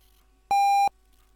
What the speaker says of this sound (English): there's no boot chime, but there is a beep